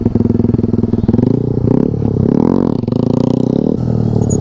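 A motorcycle engine revs loudly and close during a wheelie, with a steady, throbbing roar that rises and dips as the throttle opens and eases, and no voices over it.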